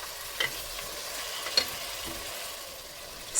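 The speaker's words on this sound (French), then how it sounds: "Surtout, ne faites pas trop dorer la viande." Meat browning with onions in a pan, a soft steady sizzle with a few light clinks of stirring, fairly faint and without speech.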